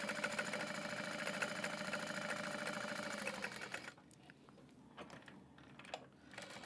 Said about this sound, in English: I am just going to sew it on. I am using a stitch length of 4 for this.